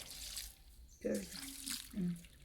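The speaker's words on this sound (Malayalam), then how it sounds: "ആ വെള്ളം കുറച്ച് അതിനകത്തേക്ക് ഒഴിച്ചു കൊടുക്കണം" Water poured into a container of gooseberries makes short splashing gurgles, in two brief bursts close by, with quiet room noise and faint voices around them.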